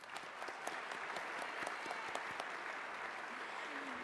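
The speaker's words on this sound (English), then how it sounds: "Let's give another round of applause to our entire cohort" Steady, sustained applause from a ceremony audience honoring a cohort of 57 graduating pharmacy candidates, a soft and distant wash of many hands with individual claps flickering through, holding evenly throughout.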